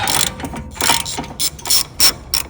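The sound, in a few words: ratchet loosening strut bolts on a BMW 540i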